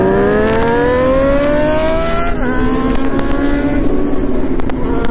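Superbikes accelerating away at a bike meet in Nepal, loud engines rising steadily in pitch as they rev through gears, several machines layered together and staying close throughout.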